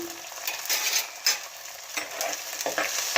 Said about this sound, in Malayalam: ഒന്ന് ഇളക്കി കൊടുക്കണം